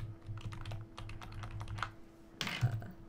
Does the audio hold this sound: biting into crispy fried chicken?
no